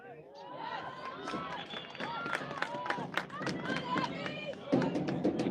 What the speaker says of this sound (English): hear the banging on the bleachers